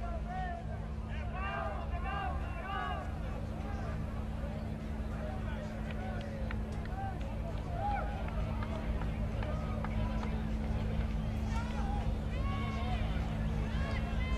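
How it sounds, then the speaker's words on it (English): A crowd gathers at the podium of the FIA World Rallycross round in Montalegre, Portugal, making a steady, dense murmur of many voices that runs throughout, with someone talking over it. "There's the crowd gathering at the podium."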